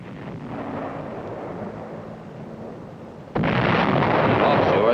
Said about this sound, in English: the artillery threw in white phosphorus shells